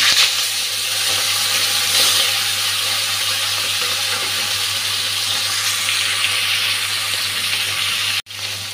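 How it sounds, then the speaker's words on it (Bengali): Fish head coated in salt and turmeric frying in oil, a continuous bright sizzle and hiss at steady level, ending with a brief sharp clatter near the close. "এখন ভাজতে দিয়ে দিচ্ছি।"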